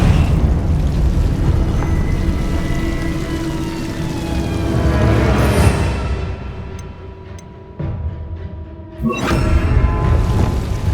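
Confringo fire-blast spell exploding against Devil's Snare in the wizarding video game Hogwarts Legacy, a swelling burst and boom around the middle, then a second sharp blast near the end, with lingering resonant tones between.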